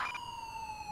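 Police car siren in GTA 5, a steady high wailing tone held through the whole moment, faint and distant over quiet background.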